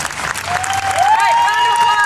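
Crowd applause for cosplay contest winners at a Walker Stalker fan convention in Germany, dense clapping with a rising whistle-like tone threading through it, loud and close.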